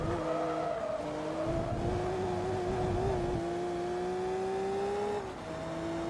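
A McLaren race car engine in Forza Motorsport 2 holds a steady high whine, rising gradually in pitch under sustained acceleration with faint tire noise, loud and continuous before a brief drop near the end.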